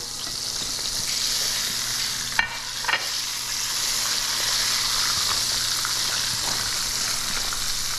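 A tuna fillet fries in a pan with a steady, loud sizzle, broken by one or two brief scraping knocks as it is flipped, with no talking.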